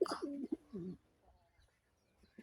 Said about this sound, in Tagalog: Ito po yung mga kalapati ko lahat.